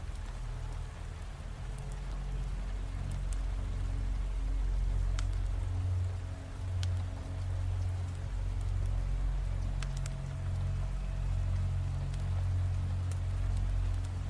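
Steady rain falls continuously onto surfaces, a dense even hiss with scattered close droplet taps and a low rumbling undertone, with no voices.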